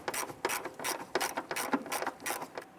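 A ratchet wrench snugs down a fender well bolt on a 1999-2004 Jeep Grand Cherokee 4.7L V8 during an engine mount job, giving close, loud, steady rapid clicking in repeated strokes with no talk.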